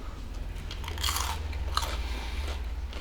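Someone bites into buttery garlic cheese bread fresh from the oven, giving a couple of close, quiet crunches followed by soft chewing, with no talking.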